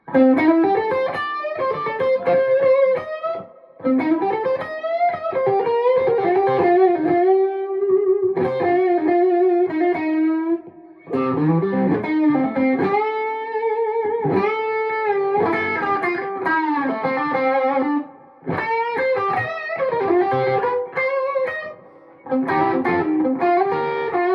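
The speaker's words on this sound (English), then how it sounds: "That's the Tonemaster with a little bit of overdrive." Electric guitar, a Fender Stratocaster, played through a Fender Tonemaster Deluxe Reverb amp with mild overdrive, a run of melodic phrases and sustained notes with slightly gritty tone, brief pauses between passages.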